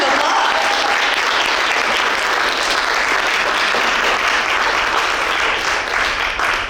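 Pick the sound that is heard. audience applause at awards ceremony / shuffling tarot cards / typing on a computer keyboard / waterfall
audience applause at awards ceremony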